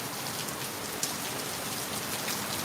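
Dense, steady downpour of heavy rain in Ottawa, Illinois, hissing evenly throughout, with a faint single drip-like tick standing out briefly.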